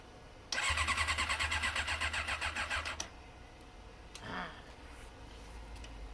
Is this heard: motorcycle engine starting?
yes